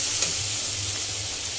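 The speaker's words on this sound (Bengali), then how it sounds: "মশলাটা আমি কিছু সময় জাল করে নেবো, যাতে কাঁচা গন্ধটা চলে যায়" Garlic, onion and mustard spice paste frying in a pan gives a steady, close sizzle with light stirring scrapes, no talk over it.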